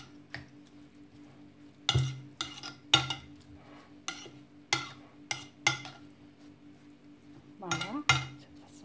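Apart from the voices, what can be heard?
stirring seffa with milk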